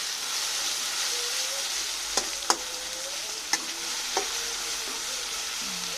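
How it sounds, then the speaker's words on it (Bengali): Onions and tomatoes frying in oil with garlic paste, a steady soft sizzle throughout with a few sharp taps of a spoon against the pan, heard close and without talk. "তেলের মধ্যে পেঁয়াজ টমেটোগুলো একটু নরম করে নিতেছি রসুন বাটা দিয়ে দিলাম"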